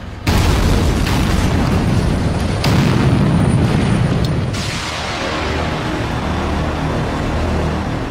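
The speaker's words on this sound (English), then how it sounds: "they have to be dug out the old-fashioned way, by drilling and blasting" Rock blasting in a tunnel: a heavy, sustained explosive roar with rumbling blasts, loud and enveloping, fading into a lingering echoing rumble in the enclosed space.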